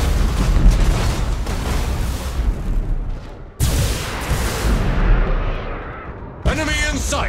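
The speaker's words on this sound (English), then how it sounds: "Thunderhawk bombardment!" Thunderhawk bombardment in the space battle game Battlefleet Gothic Armada 2, with a rolling barrage of heavy booming explosions. A sharp burst lands near the middle of the barrage, and another impact hits near the end, all loud and continuous.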